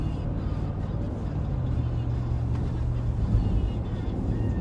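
A Chevy Tahoe RS with a 6.2 engine travels a bumpy road, heard from inside as a continuous low, heavy rumble of engine and road noise that stays steady throughout.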